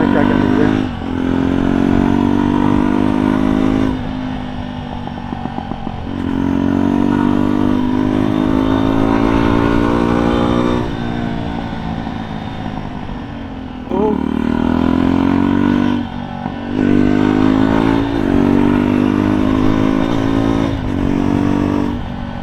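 A Jawa 42 motorcycle fitted with a new silencer revs hard up close, its loud engine roaring in repeated long throttle blips separated by short drops to idle, with someone speaking at times over it.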